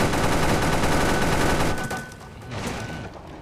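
A Hummer M1038 anti-aircraft vehicle in Clash of Panzer fires its mounted gun in a rapid, loud burst of overlapping shots that thins out and tapers near the end.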